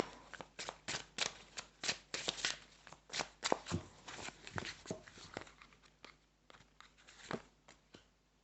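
Playing cards are shuffled close up, a rapid series of crisp riffling snaps and flicks, quiet and uneven in rhythm.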